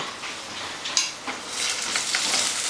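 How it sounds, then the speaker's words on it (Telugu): Green chillies frying in a tablespoon of oil give a steady, fairly loud hiss with scattered crackles and pops throughout, no voices over it. "కొంచెం ఒక టేబుల్ స్పూన్ ఆయిల్ వేసుకొని మంచిగా వేయించుకోవాలి."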